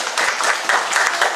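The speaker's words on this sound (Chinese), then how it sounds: "给他鼓鼓掌哈。" A short burst of audience applause, many hands clapping together at an even, lively pace throughout.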